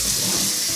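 A kitchen faucet runs in a steady, loud, broadband hiss of flowing water, heard close and unbroken with no voices.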